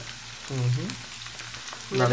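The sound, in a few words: marinated chicken frying in hot oil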